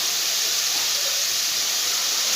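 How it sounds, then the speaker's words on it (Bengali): Spice paste of turmeric, cumin and coriander powder fries for a potato and papad vegetarian curry, giving a loud, steady sizzling hiss with no talking. "মশলাটা আমি ভালো করে কষিয়ে নেব"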